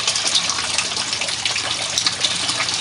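Water gushing and draining out of a swirl filter, a steady, close rushing flow that stays even throughout with no talk.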